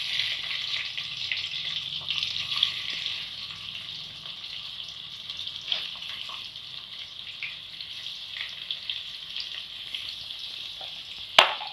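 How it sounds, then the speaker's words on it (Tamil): Thinly sliced onions frying in hot oil for mushroom biryani give off a constant bright sizzle and crackle, close and even, with a few faint stirring clicks and a sharp clatter at the very end. "இது நல்லா கோல்டன் ஃப்ரை ஆகட்டும்."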